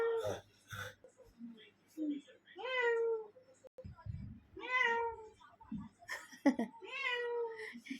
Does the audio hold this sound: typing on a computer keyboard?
no